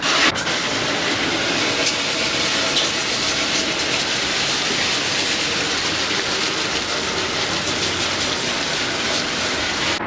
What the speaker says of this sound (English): I'm gonna hose it off